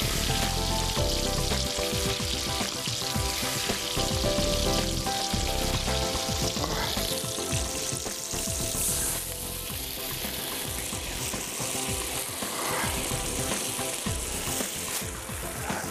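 Oil bubbling and sizzling loudly in a large cooking pot over an outdoor fire, a steady dense frying roar for the whole stretch, preparing wild carp Balkhash style.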